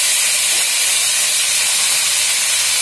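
Tomato and green chilli drop into a hot pan of spices for khichuri, setting off a loud, steady sizzling hiss that fills the short span without pause.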